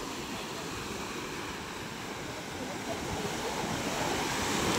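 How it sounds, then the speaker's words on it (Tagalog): Strong ocean waves, whipped up by northeast monsoon winds, roar steadily with a broad rushing wash, growing slightly louder toward the end, with wind noise over the microphone. "Malakas ang ating alon."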